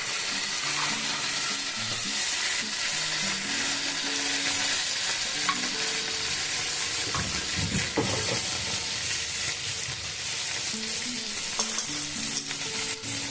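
Spice paste of turmeric, cumin and coriander is added to a fish curry frying with badi and capsicum, producing a loud, steady sizzle and hiss with occasional stirring scrapes and a bubbling surge midway; no talking.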